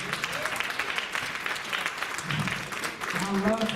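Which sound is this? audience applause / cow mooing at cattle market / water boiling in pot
audience applause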